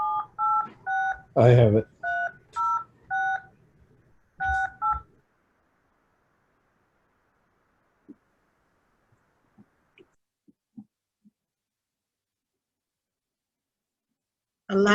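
DTMF keypad tones from a phone dialing into a Zoom meeting ID, a quick run of about eight loud, evenly spaced beeps with a voice briefly overlapping, then near silence with faint clicks and a final tone at the end.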